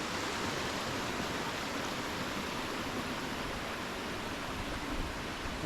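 Waterfall in Korat, Thailand, running over boulders and sloping rock slabs during the rainy season with muddy water, a steady broadband rushing roar that stays even and continuous throughout.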